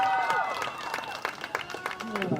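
Scattered claps and crowd applause ripple through a noisy space at an amusement park dive show, fairly light and uneven rather than a roaring ovation.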